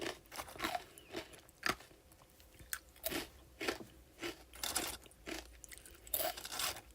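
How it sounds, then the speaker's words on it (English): Chex Mix snack being crunched while eating: close, irregular sharp crunches and bites, some in quick clusters, others spaced a second or so apart, over quiet background with no talking. "Can you just hear me crunching?"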